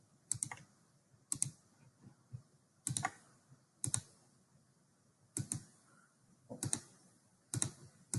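Sharp plastic clicks from a computer mouse or keyboard come in small clustered bursts separated by quiet pauses, close and crisp with no talking.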